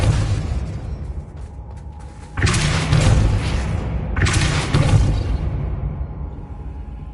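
A Depulso force spell cast in Hogwarts Legacy on PS5, heard as two loud rushing bursts, each a broad whooshing blast with a booming low thump, over a steady low game rumble.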